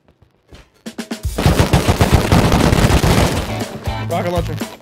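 Rapid gunfire and explosive rocket launcher blasts erupt during a base raid in a survival video game, loud and close, building into a dense barrage with overlapping shots and booms, with a player's voice talking over it.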